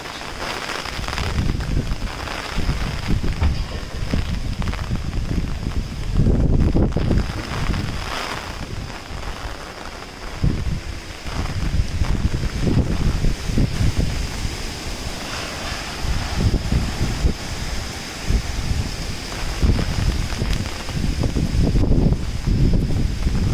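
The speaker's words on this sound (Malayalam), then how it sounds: "ഇവിടുത്തെ കാറ്റ് നോക്കിക്കേ." Strong wind roars steadily across a rooftop terrace as light rain begins, a loud continuous buffeting rush with gusty surges and no speech.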